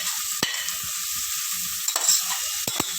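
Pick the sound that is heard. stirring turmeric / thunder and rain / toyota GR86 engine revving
stirring turmeric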